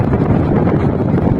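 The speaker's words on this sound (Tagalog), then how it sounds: "ang lakas ng hangin" Strong wind gusting along a shoreline road near rough sea, a steady heavy roar of wind buffeting the microphone, loud and unbroken.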